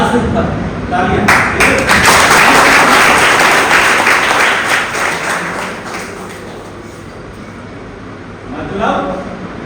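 Seminar audience bursts into applause, a dense wash of clapping that peaks early and tapers off gradually, with people talking over it throughout.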